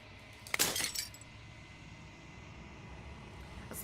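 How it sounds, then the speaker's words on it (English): Glass shatters once in the video game Slay the Princess, a bright crashing burst of breaking shards that fades within half a second into a low ambient hum, with a faint tinkle near the end. "As the final fragment of glass shatter"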